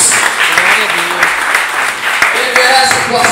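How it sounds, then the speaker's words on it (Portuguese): A church congregation applauds for Jesus during a sermon by a preacher, steady loud clapping filling the room with a voice carrying over it throughout. "Tem uma salva de palmas para Jesus."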